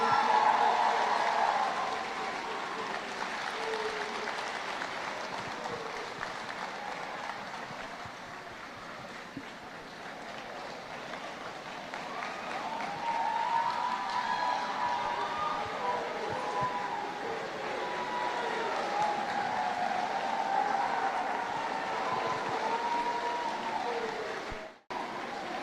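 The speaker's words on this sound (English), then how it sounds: "I'd like to ask that we give them a round of applause" An audience at a university athletics awards ceremony applauds in a long, steady wash of clapping heard from within the hall, with a voice briefly audible and the clapping ending abruptly.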